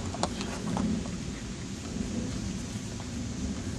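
Thunder from a severe storm rolling near a shoreline, a low steady rumble blended with broad rain-like hiss, one brief sharper crack early on.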